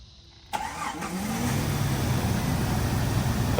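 A Jeep 4.0 inline-six engine starts after a belt, idler pulley and tensioner replacement: a brief cranking burst, then the engine catches and settles into a steady, smooth idle close by.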